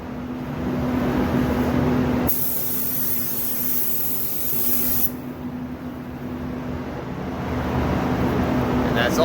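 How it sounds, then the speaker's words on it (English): A steady, loud hiss of a paint spray gun at 22 PSI applying a second coat to Ford SVT door jambs runs throughout, briefly cutting out and resuming, with a faint low hum beneath. "we're going to spray the 2nd coat"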